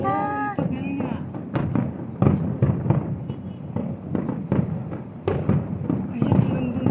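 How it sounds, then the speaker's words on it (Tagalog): Fireworks display for UAE National Day near the Corniche, with repeated sharp bursts and crackles echoing at an irregular rhythm while several people talk throughout. "Tagal ng fireworks"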